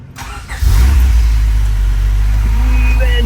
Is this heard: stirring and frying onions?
no